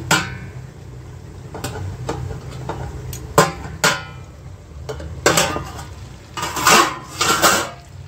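A metal cover plate clanks as it is lifted off a pot of chicken curry, followed by the sharp scrape and knock of a spoon stirring against the pot. The impacts are close and irregular and come in separate bursts.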